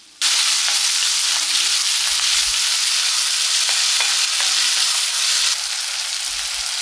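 Chopped onion and tomato sauté in a hot pan for an egg roast, giving a loud, continuous close-up sizzle with occasional stirring scrapes and no voices.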